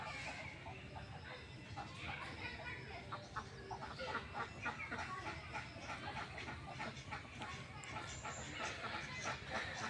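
Chickens in a quiet village yard near a tin-roofed house cluck and call back and forth in the morning, a busy, continuous chorus of fowl with scattered sharper calls over a steady ambient background.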